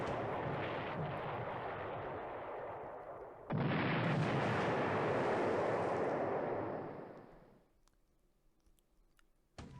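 Torpedo hits and explosions in a War in the Pacific naval combat video game, a loud sustained roar of blasts that surges louder midway, then fades out into near quiet with faint ticks.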